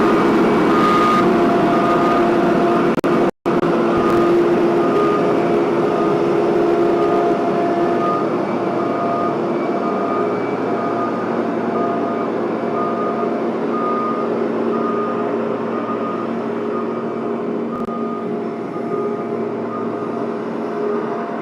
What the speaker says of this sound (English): Here we go, nose is now closing.